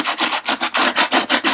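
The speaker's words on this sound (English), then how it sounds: "start giving it a really nice sand" Rhythmic back-and-forth rasping of sandpaper rubbing a go-kart seat, about a dozen quick, even strokes, close and fairly loud.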